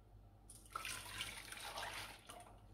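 Custard mixture poured back into a cooking pan: a soft, steady liquid pour lasting about two seconds, faint and close, with no talking.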